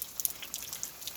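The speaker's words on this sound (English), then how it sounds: "it's starting to rain pretty hard" Outdoor rain falls hard, a faint, brief spatter of scattered droplet ticks over a soft hiss.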